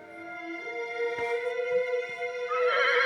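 A horse gives a loud, drawn-out neigh with a rising whinny toward the end, near and alone without talking.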